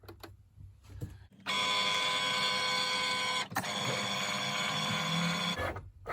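A vinyl cutting machine reads the black registration marks printed around a sublimation shirt design, giving a steady loud mechanical whirring and humming hum for several seconds, with quieter clicks before and after.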